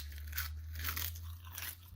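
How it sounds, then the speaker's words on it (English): Crunching bite into crispy skin-on chicken from a chicken soup, a few crisp crackling chews close up over a steady low hum, with no talk. "see if you can guys hear the crunch."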